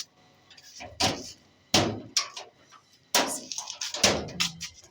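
A faulty household door is shut several times in a row, each close landing as a sharp, loud knock or bang with a brief rattle, spaced about a second apart and close by, with no talking.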